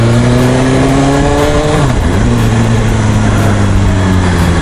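A BMW M1000RR superbike's engine revs hard on a ride to a roadside station in Kyoto. The loud, close engine note climbs, dips sharply at a gear change and then climbs again, with no talking.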